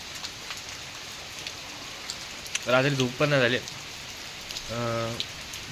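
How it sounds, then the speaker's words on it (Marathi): Steady rain falls throughout during the first monsoon rain in Konkan, a continuous broadband patter, with a person talking briefly in the foreground partway through. "पाऊस चालू आहे कालपासून"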